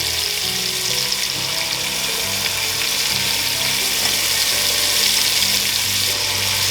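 Bacon sears in a hot pan beside other searing meat, a loud, dense, continuous sizzle and crackle that holds steady from start to end, close up and with no talk.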